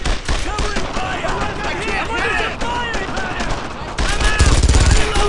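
Continuous heavy gunfire from the World War II shooter Brothers in Arms: Earned in Blood, dense rattling bursts over several seconds with shouted voices mixed in and a louder volley near the end.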